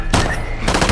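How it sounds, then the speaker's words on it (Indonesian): Loud, dense bursts of gunfire crackle in rapid succession, with a brief lull before another volley. "melepaskan tembakan ke segala arah sampai akhirnya kehabisan peluru"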